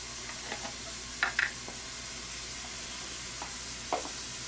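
Onion cooks in a pan for vegetable chop suey, a quiet, even sizzle running throughout with a few brief utensil scrapes and clinks.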